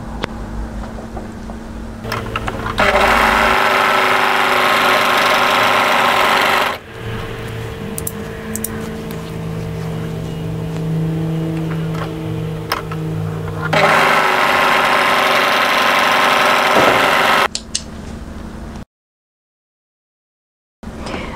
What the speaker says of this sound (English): So now go to your overlocker and tidy that edge up.